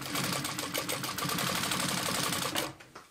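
A sewing machine stitches a test strip in a steady rapid mechanical chatter, close and continuous for about two and a half seconds before stopping.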